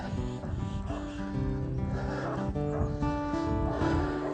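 Several ranch dogs bay and bark together while chasing a puma, with a steady layered din of howling and barking that carries on without a break.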